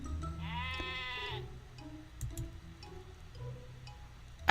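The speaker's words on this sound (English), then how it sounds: "Are those sheep in my shop?" Sheep bleat in the cozy baking video game Heartbaked, a single wavering, harmonic bleat close up inside a shop, followed by soft clatter and low background hum.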